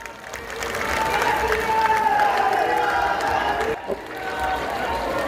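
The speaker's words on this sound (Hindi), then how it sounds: "एक बार जोरदार तालियां।" An audience at a farmers' conference in Loharu, Haryana claps and cheers steadily, a dense sustained wash of applause with some shouting and a steady tone over it, briefly dipping before continuing.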